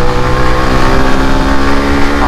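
A performance-modified Yamaha FZS V2 motorcycle engine is held near full RPM, a loud, close, steady buzzing drone with strong harmonics that barely changes pitch.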